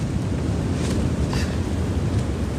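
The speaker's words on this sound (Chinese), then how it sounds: "这风应该不碍事啊" A gale of force-6 wind roars around a newly built vegetable hoop greenhouse in the countryside, a loud, continuous blustery rush buffeting close by.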